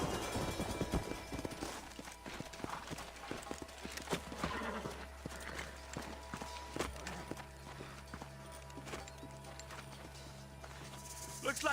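Horses' hooves clip-clop as horses walk in the Western video game Red Dead Redemption, with a whinny and footsteps amid game ambience, while people talk over them.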